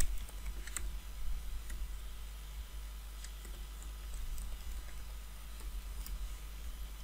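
Keys tapped on a laptop keyboard while typing an email login, a quick irregular run of light clicks close up over a low steady hum, with no talking.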